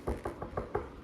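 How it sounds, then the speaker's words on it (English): Five evenly spaced knocks on a front door, sharp and fairly close, rapping in a quick steady rhythm with nothing else around them. "Then suddenly there was a bam, bam, bam from the front door."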